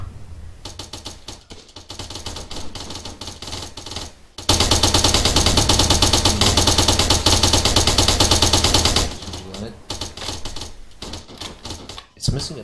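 Rapid automatic gunfire with tracer rounds in an Arma military video game, with close repeated bursts and a long, loud sustained volley in the middle. Voices talk during parts of the clip.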